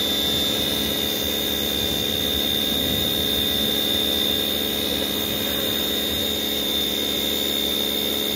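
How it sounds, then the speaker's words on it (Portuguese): A machine runs steadily through a car wash, a continuous broadband hiss and hum with a high whine on top and no breaks or speech. "Esse barulho que vocês estão ouvindo é que o Marcelo está lavando o carro"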